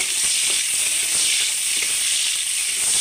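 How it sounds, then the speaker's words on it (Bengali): Onions frying in a pan alongside dried fish for a kochur loti dish: a loud, bright, continuous hiss of hot oil, steady throughout and heard close, with no talking. "এবার পেঁয়াজ দিয়ে দিচ্ছি। পেঁয়াজটা অল্প ভেজে নেব"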